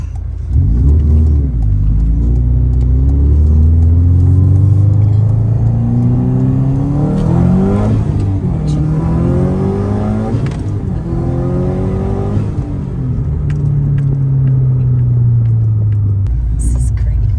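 A Subaru WRX STi engine revs hard and pulls through gears with loud, rising pulls and a deep rumble. Each climb in pitch ends in a brief drop before the next rise, with a voice underneath.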